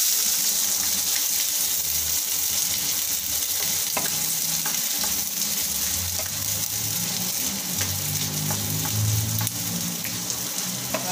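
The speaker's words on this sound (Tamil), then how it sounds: "வெங்காயம் வந்து நல்லா வதங்கட்டும்." Two finely chopped onions frying in a pan for a mushroom gravy, a steady, loud crackling sizzle close by that runs throughout, with occasional scrapes of stirring and a faint watery rush underneath.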